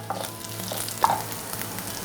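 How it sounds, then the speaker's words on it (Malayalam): Dried red chilies frying with shallots in hot oil, a continuous close sizzle with a few soft stirring knocks, no talking. "3 വറ്റൽമുളക് കീറി വെച്ചിരിക്കുന്നത് ഇട്ട് കൊടുക്കുക."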